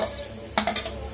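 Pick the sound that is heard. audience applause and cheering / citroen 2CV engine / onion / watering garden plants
onion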